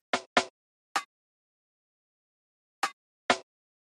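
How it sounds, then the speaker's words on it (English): Five sharp drum hits, snare and rim-shot samples, played alone with gaps between them: two quick strikes, a single, then a pause before two more. "Then we have a few snare and rim shot samples,"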